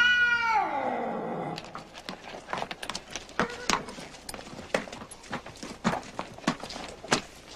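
A cat lets out one long, loud drawn-out meow at the start, followed by a series of clip-clopping hoof-like knocks and footsteps in a quiet setting.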